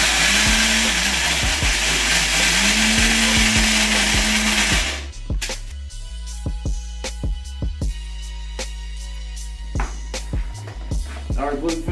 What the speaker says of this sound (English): First, we're gonna blend this up real quick.